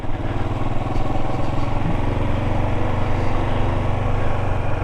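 A first-generation Kawasaki KLR650 motorcycle engine while riding, a steady, loud single-cylinder thrum droning close and unbroken, with no talk over it.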